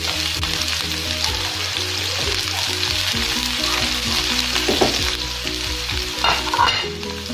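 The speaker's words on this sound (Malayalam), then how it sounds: "ഇനി ഇതിലേക്ക് 1/2 സവാള ചെറുതായിട്ട് അരിഞ്ഞത് ചേർത്ത് കൊടുക്കാം." Chopped onion fries in hot oil with popped mustard seeds, giving a loud, steady sizzle close by that carries occasional stirring scrapes and clinks throughout.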